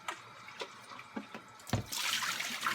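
Water splashes from a tap into a sink as an item is rinsed, with a few soft knocks and drips before a steadier hissing stream takes over near the end.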